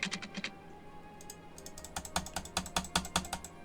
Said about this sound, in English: I'm clicking, nothing is working.